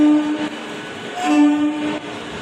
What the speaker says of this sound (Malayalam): അപ്പോൾ നമ്മൾ ട്രെയിൻ ഇവിടെ എത്തിയിട്ടുണ്ട്. This is our train.